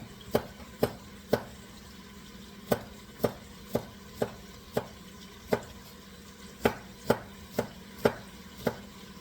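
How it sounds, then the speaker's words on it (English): Garlic being minced with a knife on a cutting board: sharp, separate chops in an uneven rhythm, close and fairly loud against a quiet kitchen background. "you need 3 garlics minced,"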